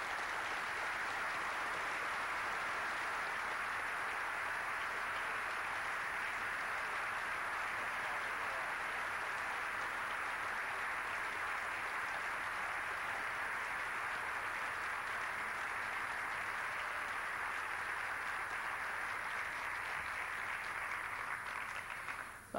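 Sustained audience applause at a forum on international affairs, a steady even wash of clapping from a large crowd lasting over twenty seconds and cutting off at the end, with no voices over it.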